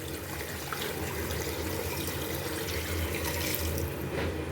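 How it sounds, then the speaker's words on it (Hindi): Water from a jug pours steadily into a cooking pot of goat trotters with salt, turmeric and whole spices, a continuous close splashing gush lasting several seconds. "यहाँ पर हमने 1 जग पानी ले लिए।"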